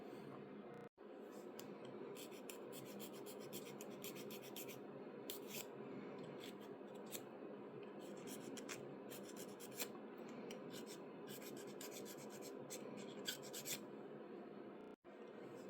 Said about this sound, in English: I want to sand this